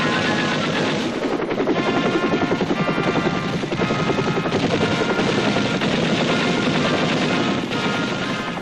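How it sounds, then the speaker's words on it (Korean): A military helicopter lands in Gwanghwamun Square during an air raid drill, its rotor chopping loudly and steadily in a fast rhythmic pulse over a dense roar of engine noise throughout. "가상적 헬리콥터가 광화문 광장에 착륙하자 대공화기로 이를 즉각 추적했습니다"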